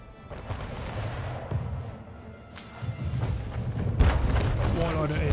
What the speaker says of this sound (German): Schuss.